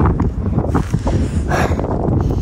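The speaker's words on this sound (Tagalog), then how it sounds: "buti na lang masarap ang hangin. Mahangin." Wind gusts on a mountain, buffeting loudly and close against the microphone in uneven rushing bursts, with no voices over it.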